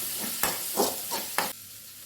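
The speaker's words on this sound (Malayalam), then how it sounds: "ഇനി നമുക്കൊന്ന് മിക്സ് ചെയ്ത് ഇതിൻ്റെ പച്ചമണം ഒന്ന് മാറി കിട്ടണം" A spoon stirs coriander powder and garam masala as they fry in a pan for paneer thoran: about four quick, close scrapes over a soft, steady sizzle, with no voices.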